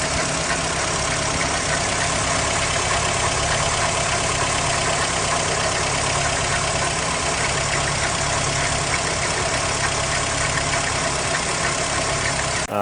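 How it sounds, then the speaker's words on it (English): A Mazda B2000 pickup's engine idles steadily throughout, a dense, even mechanical drone with a faint rubbing or knocking texture inside the engine and no one talking. "It's like a little, sounds kind of mechanical to me, honestly, like something is rubbing somewhere."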